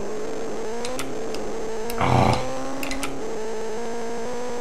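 A digitized motorbike engine from the Atari ST racing game RVF Honda drones steadily with a buzzy, tonal hum, briefly surging louder in a rev burst midway before settling back to an even note.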